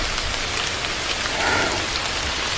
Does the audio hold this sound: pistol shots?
no